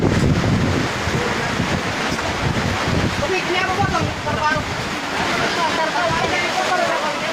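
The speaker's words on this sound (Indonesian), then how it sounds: "Oke guys, angin bertiup kencang sekali." Strong wind gusts hard against the microphone at a wedding reception outdoors, a loud roaring rush with people talking and shouting underneath.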